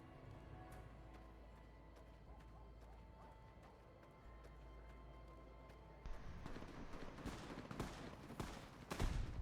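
Distant gunfire from an NCR versus Legion battle at a raided farmstead in Fallout: New Vegas: faint, scattered shots and bursts that grow denser and louder toward the end, with no talking.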